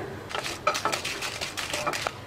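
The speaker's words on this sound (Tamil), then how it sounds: "இப்போ நான் எடுத்து வச்சிருக்கிற 6 வரமிளகாவை போட்டு வறுத்துக்கிறேன்" Six dried red chilies drop and dry-roast in a hot, empty kadai with no oil, making light rattling clinks and tapping against the metal pan in quick irregular bursts, close and fairly soft.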